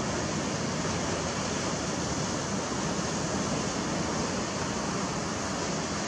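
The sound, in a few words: ocean waves at Trig Beach, Western Australia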